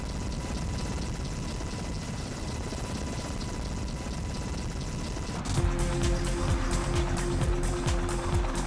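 An Apache Longbow combat helicopter flying, a broad steady rotor and engine rumble that shifts partway through into a closer, louder drone with a pulsing low beat.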